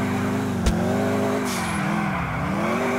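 Car drifting in the video game GTA IV, a steady engine drone with harmonic whine holding through, a brief sharp knock early and a short hiss of tire squeal midway, loud and close with no talk.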